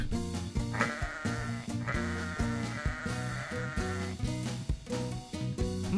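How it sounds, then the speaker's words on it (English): Sheep bleating repeatedly in a rhythmic, musical pattern over a steady backing beat, loud and close throughout. "Sheep!"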